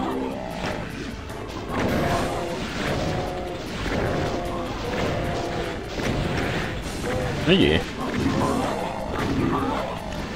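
Exploding barrels in Doom set off a burst of crashing blasts amid ongoing game noise, with a sharper bang near the end; someone talks over the action.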